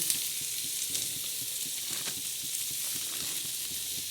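Green chilies, onion, tomato and salt for thecha sizzle and fry in a pan while being stirred, a steady crackling hiss with soft scraping strokes throughout.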